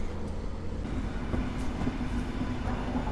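A passenger train from Siedlce pulls through Warszawa Zachodnia station in snow toward the sidings, giving a continuous close rumble of wheels on rails with faint rhythmic clicks and a thin tonal whine.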